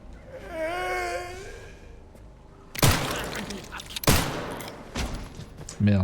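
Gunfire in the survival horror game Resident Evil Requiem: a few sharp, loud shots spaced over several seconds, mixed with ambient game sound and a voice near the start.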